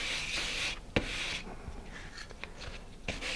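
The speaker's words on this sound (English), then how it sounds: "So I'm going to sand this lightly. And I'm using 220 grit sandpaper here, so this is a nice fine grit sandpaper." Light hand sanding with fine 220 grit sandpaper, heard as a soft, close rubbing hiss with a few stroke accents and quiet texture throughout.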